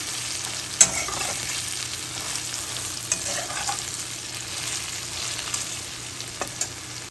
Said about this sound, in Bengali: কচুরলতিগুলো সিদ্ধ না হওয়া পর্যন্ত ভেজে নেব।